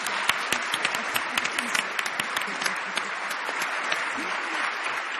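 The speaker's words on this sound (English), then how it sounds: "please give these women a round of applause." An audience at a corporate International Women's Day panel in Chicago gives a sustained round of applause, dense clapping with distinct nearby claps popping out, and faint voices murmuring underneath.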